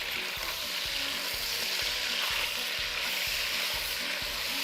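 Flank steak searing in a hot pot: a loud, continuous sizzle and spatter close by, with a soft, steady low thumping pulse underneath.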